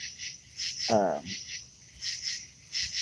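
Frogs calling from a flooded backyard swimming pool, a nearby croaking burst standing out over a steady, high insect-like trill that pulses throughout the night chorus.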